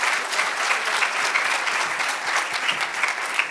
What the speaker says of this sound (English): So can we give our panel and our moderator a round of applause?